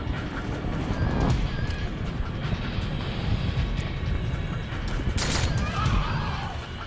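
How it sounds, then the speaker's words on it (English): Rapid bursts of gunfire from a weapon in Metal Gear Solid 4, rattling steadily over a dense, continuous wash of battle noise with a louder flurry near the end. "You can squeeze off a few rounds"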